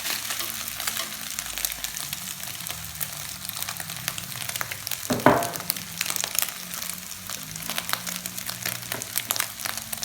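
Ingredients stir-fried in a pan for a northeastern Thai-style dish of spicy sausage with egg, a steady close sizzle and crackle throughout with a brief louder clatter of stirring midway.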